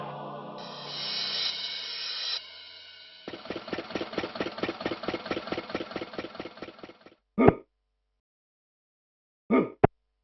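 A tractor engine running, a rough rhythmic chugging that pulses steadily for several seconds after a droning start, then stops, followed by two separate short bursts.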